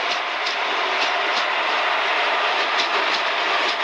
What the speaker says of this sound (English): the train is arriving